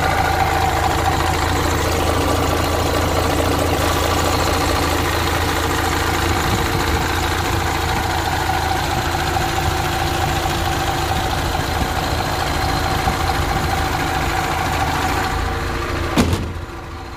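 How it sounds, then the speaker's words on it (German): A Mercedes G-Class idles for a long stretch, a constant, close, low rumble with steady knocking texture, ending in a brief sharp knock near the end. "hören uns den Motor an"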